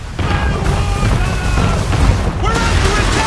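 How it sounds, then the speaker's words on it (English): Cannon fire from a Man of War warship bombarding the player's ship in Assassin's Creed III: heavy booms roll through a dense, continuous battle din, with a voice faintly present in the mix. "Man of War is firing"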